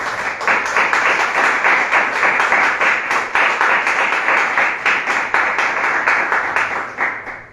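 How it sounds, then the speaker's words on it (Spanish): A church congregation claps loudly and continuously in a dense, rhythmic wave of applause that holds for several seconds, without speech. "Denle un fuerte aplauso a Dios."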